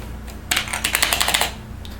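Keys clatter on a Toshiba T3100 laptop keyboard, a quick run of about ten crisp, close clicks lasting a second against a low hum.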